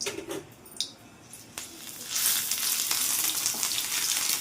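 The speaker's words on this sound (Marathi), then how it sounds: "भाजून घेतलेले कांदे तेही थोडेसे तेला तळून घेणार आहे" Roasted onions frying in a little oil for a bitter gourd dish, a soft crackle at first with a few light clinks, then a steady louder sizzle filling the second half, with no talking.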